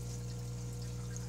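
Water pours from a hose in a fish room auto water change system, a steady close splashing flow over a constant low hum from pump machinery, with no talking.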